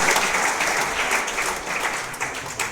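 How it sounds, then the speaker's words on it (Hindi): An audience at a foundation-day education event welcomes a guest with a short burst of continuous clapping, dense and fairly close throughout. "तालियों से स्वागत किया गया।"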